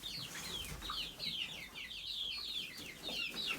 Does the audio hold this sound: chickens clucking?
yes